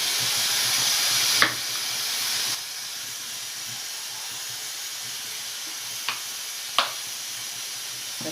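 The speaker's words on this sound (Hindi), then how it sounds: "तेल डाल रहे हैं" Mustard oil in a pan for frying brinjal, giving a steady hiss that is louder at first then settles into a softer continuous sizzle, with a few sharp clinks of utensils.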